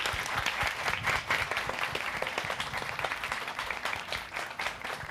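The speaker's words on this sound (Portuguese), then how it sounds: "Palmas para nós." Audience clapping at a youth literary academy's conversation circle in Araxá, a steady, full round of applause from a crowd that holds throughout without fading.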